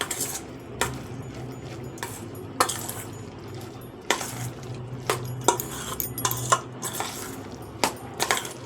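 Taro stolons being mixed by hand with sugar and mustard oil, giving repeated clinks and scrapes of a utensil against a bowl in an irregular rhythm, close by and fairly loud, with no talking.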